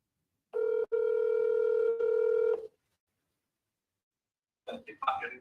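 A steady electronic telephone tone sounds for about two seconds with brief breaks. After a silent pause, a voice briefly comes through the line.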